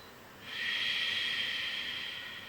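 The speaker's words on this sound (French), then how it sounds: "Commencez à mettre en place votre respiration Ujjayi. On inspire, on expire par le nez en faisant passer l'air derrière la gorge" A long, steady Ujjayi exhale through the nose, the air drawn past the back of the throat to make a soft ocean-like hiss during a yoga session. The breath is close and smooth and is heard on its own.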